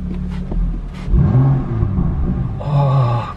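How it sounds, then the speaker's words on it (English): A BMW M car engine revs hard in Sport Plus mode, rising to a loud roaring climb, easing back, then a second rev with a raspy exhaust note, heard up close with no talking. "we'll give you a little cheeky rev"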